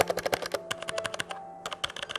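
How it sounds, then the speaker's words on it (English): Close-miked typing on a Logitech G413 Carbon mechanical gaming keyboard with blue switches: a quick run of sharp, clicky keystrokes with a slight pause midway, heavy and hard-sounding, no voices. "these are blue switches. It's got pretty hard, heavy feedbacks."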